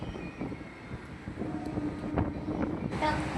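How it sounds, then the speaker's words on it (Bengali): A suburban commuter train rolls into Majerhat station in Kolkata, with a low rumble, wind buffeting and faint metallic rattles heard from on board, and a voice partly audible under the noise. "আর বন্ধুরা আমাদের ট্রেন এসে পৌঁছালো মাঝেরহাট স্টেশন"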